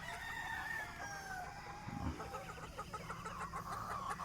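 Chickens at a Philippine poultry farm raising national breeds, a rooster's long crow rising over steady, nearby clucking and cackling from many birds, continuous across the whole span.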